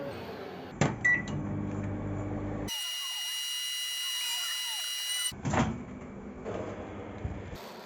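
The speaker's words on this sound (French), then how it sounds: "je vais faire chauffer de l'eau au micro-ondes, il y en a pour 50 secondes" A microwave oven runs on its own for a few seconds, heating water for thermoplastic pellets, giving a steady humming drone with a faint whine. Someone talks before and after it.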